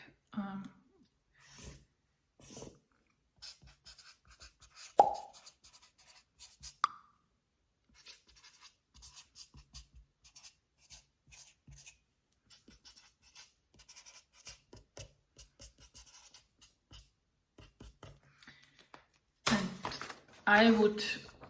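A pen draws a diagram on paper, with soft intermittent scratching strokes close by, broken by short pauses and a few brief handling noises.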